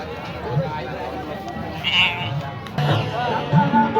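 Sheep for sale at a livestock seller's pen give a few short bleats amid steady outdoor background noise, with people talking nearby.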